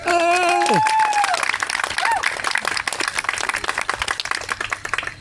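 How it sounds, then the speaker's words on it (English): Wedding guests break into a round of applause after the vows, many hands clapping in a steady, lively burst; a voice speaks briefly over the start before the clapping carries on alone. "Ladies and gentlemen, you can give that a round of applause for you."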